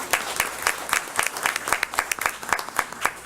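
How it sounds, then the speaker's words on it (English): An audience at a school board meeting applauds, a steady burst of clapping from many hands filling the room. "Let's give her a great big round of applause."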